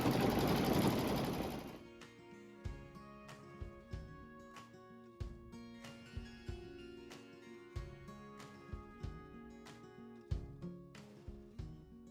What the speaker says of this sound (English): now we're going to go straight into the quilting, and I'm just going to do a time lapse on this